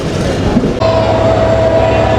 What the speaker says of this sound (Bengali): আমাদের চট্টলা এক্সপ্রেস আমাদেরকে নিয়ে কমলাপুর রেলওয়ে স্টেশনে পৌঁছায় গেছে